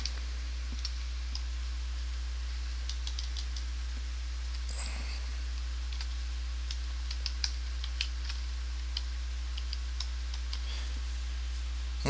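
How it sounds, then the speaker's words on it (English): An estimate title being typed on a computer keyboard: a scattered run of light key clicks, sparse and close, over a steady low electrical hum, with no talking. "Go ahead and type that in now."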